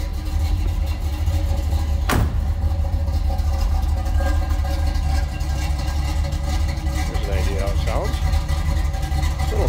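A 1972 Chevrolet Nova's 350 V8 rumbles with a deep, steady idle, close and constant, with a brief clunk partway through and no clear revving.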